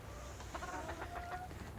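Silkie chickens clucking in their pen on a frozen winter day, with a quick run of soft, near clucks over a low steady hum, fairly faint and with no talking.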